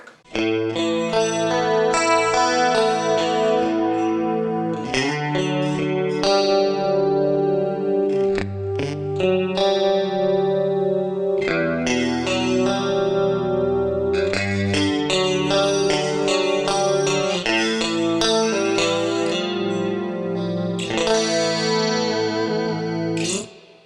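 Clean electric guitar through AmpliTube 5 amp software with a shimmering chorus effect, a clean tone, chords and arpeggiated notes ringing out steadily and fairly loud, with no voices.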